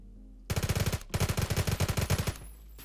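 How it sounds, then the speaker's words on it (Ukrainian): MP9 submachine gun fire in the video game PUBG: two rapid automatic bursts, loud and close, each a quick even run of shots with a short gap between them, and no voice over them. "МП-9 насправді прикольна зброя"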